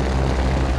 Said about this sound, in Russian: слышали? Это шум двигателя.